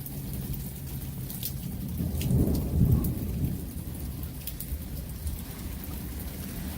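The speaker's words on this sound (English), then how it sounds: "Very intense lightning right there, with the intense sound of the thunder" A thunderstorm with heavy rain: a steady roar of rainfall with a deep rumble of thunder swelling in the middle, constant and enveloping.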